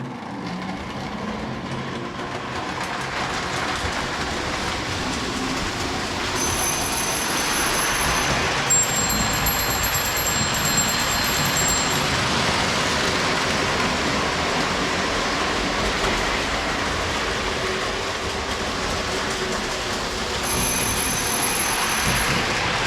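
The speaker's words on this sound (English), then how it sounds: "Let me send some trains around here." Lionel model trains running around a home layout, a steady continuous rolling rumble throughout, with faint high-pitched whines coming and going in the middle and near the end, no voices.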